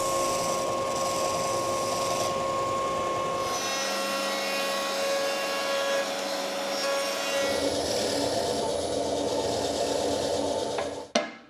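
A homemade oscillating belt sander runs with a steady, close motor whine and a rasping abrasive hiss, its pitch shifting partway through, before the machine cuts off near the end.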